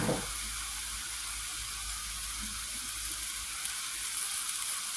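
Mushrooms stir-frying in a hot pan with light soy sauce and oyster sauce, giving a steady close sizzle that runs the whole way through with no talking.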